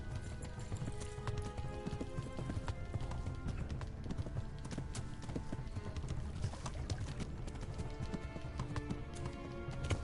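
Rapid hoofbeats of a galloping horse in a video game pound continuously, with dense, steady clip-clop rhythm throughout and a faint background rumble.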